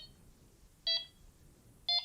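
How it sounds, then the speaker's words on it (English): A Delkim fishing bite alarm gives two short, bright electronic beeps about a second apart, faint and close over a quiet background. "if I hold it down and it goes for 3 beeps"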